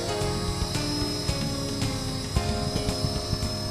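Blade SR radio-controlled helicopter hovering close by in a front yard, a steady rotor whine and buzz with slight pitch wobble as it bobs in light wind, continuous throughout.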